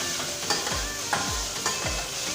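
Spoon stirring finely diced onion and potatoes sweating in a pan, soft close sizzle under three rhythmic scraping strokes, with no talk.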